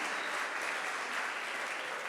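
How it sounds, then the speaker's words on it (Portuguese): A Brazilian church congregation applauds its visitors with a steady, even wash of clapping from many hands that fills the whole moment. "pode aplaudir, pode, é isso aí."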